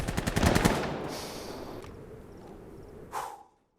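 Gunfire in Insurgency: Sandstorm: a rapid burst of loud shots at the start trailing into a decaying echo, then one more sharp, distant crack near the end.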